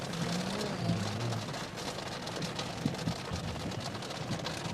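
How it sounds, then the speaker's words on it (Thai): Rain pours onto a car and is heard from inside the vehicle as a dense, continuous patter drumming on the roof and glass, steady and fairly loud throughout. "จังหวะฝนตกพอดี"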